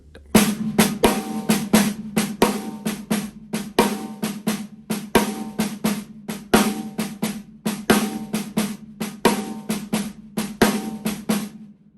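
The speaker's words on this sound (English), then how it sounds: "we're going to accent the 2 and the 4" Snare drum shuffle with accents on beats 2 and 4, an even swung pattern of crisp close strokes running alone throughout.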